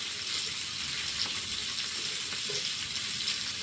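Garlic paste sizzles in hot oil in a frying pan while potato curry cooks, a steady close hiss of frying with faint stirring clicks and no talk.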